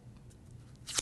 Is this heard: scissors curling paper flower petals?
yes